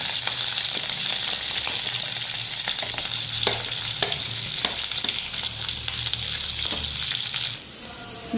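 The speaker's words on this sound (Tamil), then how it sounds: "இப்போ வெங்காயம் கொஞ்சம் நல்லா வதங்கிருச்சு." Onions, green chillies and curry leaves sauté in hot oil with fennel in a kadai, giving a loud continuous sizzle close up, with scattered clicks of stirring, before the sizzle drops away near the end.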